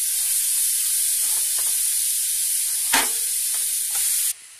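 Grated carrots for gajar halwa are stirred in a pot, with a steady hiss and a few soft scraping strokes before the sound cuts off abruptly near the end.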